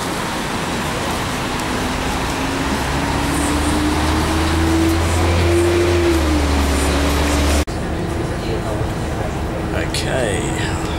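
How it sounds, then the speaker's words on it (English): A bus bound for the airport rumbles with a steady engine drone and road noise, its pitch slowly rising and falling, then cuts abruptly to a quieter interior hum as a voice talks over it. "And that's the bus, so it's going to take me back to the airport."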